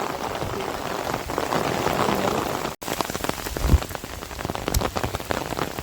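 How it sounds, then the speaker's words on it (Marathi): Heavy monsoon rain pours down over rice fields in Konkan, drumming steadily on surfaces with a dense patter, a brief gap midway, and no voices. "आता आपण जर बघितलं तर पाऊस चालू आहे"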